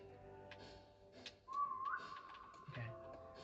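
A player character whistles inside an IKEA survival video game, a short rising tonal whistle cutting through game ambience and faint background clicks, moderately loud and alone without talk.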